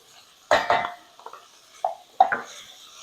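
Tomatoes being stirred in a pan with a utensil, giving several sharp clinks and scrapes against the metal in an irregular rhythm, close and fairly loud, with quiet gaps between strokes.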